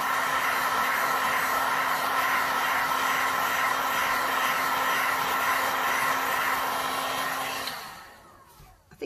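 A heat tool blows a steady, loud, hissing whoosh close by as it warms a resin drip bowl sculpture from the top, running continuously before cutting off near the end.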